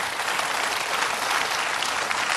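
Studio audience applause on a TV quiz show, a dense, steady burst of clapping filling the whole short stretch with no talk over it.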